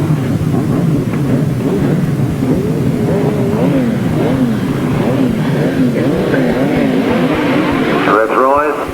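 Several grasstrack racing motorcycles rev their engines on the start line at a 1993 meeting, a loud dense roar of rising and falling whines layered over one another, with an announcer talking over the noise.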